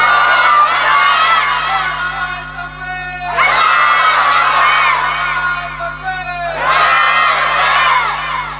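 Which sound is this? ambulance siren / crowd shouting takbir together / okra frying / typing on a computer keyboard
crowd shouting takbir together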